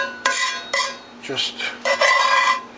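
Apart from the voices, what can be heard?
spatula scraping crusted residue off a cast iron pan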